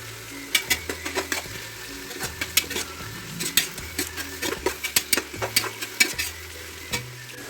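Tomatoes sizzling in a hot pan for a Kerala roasted-coconut chicken curry, with a steady fry under a rhythmic series of close spoon scrapes and taps against the pan.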